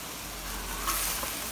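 Ground turkey with diced potato and carrot sizzles in a hot pan, a close, continuous frying hiss with a faint stir near the middle and no talk.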